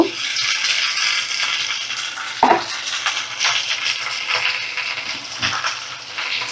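Cut okra pieces tipped into a pan of browning potatoes, giving a clatter and scrape of a utensil against the pan over a steady background sizzle, with one sharper clunk near the middle.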